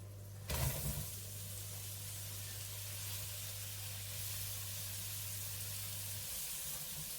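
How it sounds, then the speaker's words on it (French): Onions sizzling in melted butter in a pan, a steady close hiss that starts after a brief clatter and holds evenly throughout, with a low hum beneath. "Et vous mettez, une fois que le beurre est fondu, vos oignons."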